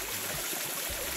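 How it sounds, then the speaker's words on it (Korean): A small waterfall with low flow in a mountain valley stream rushes as a steady, broad hiss of falling water, continuous and fairly faint with no voices. "여기 보니까 아래쪽에는 작은 폭포도 보이네요"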